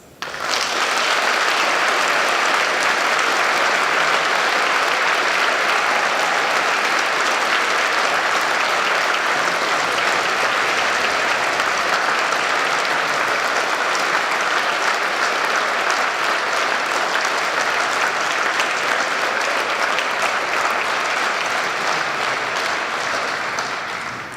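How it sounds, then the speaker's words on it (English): The audience at a 2018 Marjon university graduation ceremony gives a sustained, loud, even round of applause that fills the hall for over twenty seconds, with no talking over it. "let's give all ourselves a massive round of applause"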